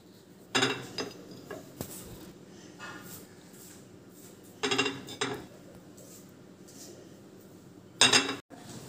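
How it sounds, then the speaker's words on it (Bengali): Boiled eggs are sliced in half on a plate, giving three short bursts of clinking and scraping of a knife against the dish, separated by quiet pauses over a low room hum. "এরপর ডিমগুলোকে হাফ স্লাইস করে কেটে নেব, যাতে করে পুরো সম্পূর্ণ মশলাগুলি ঢুকে যায়।"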